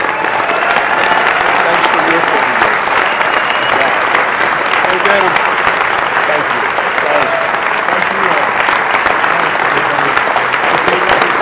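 A large audience at a formal charity dinner bursts into loud, sustained applause and cheering for Cardinal Dolan's introduction, dense clapping with scattered voices and whoops continuing strongly and evenly for over ten seconds.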